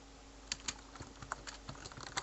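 Fingers type a short command on a computer keyboard, a quick uneven run of a dozen or so crisp, close key clicks over a quiet background.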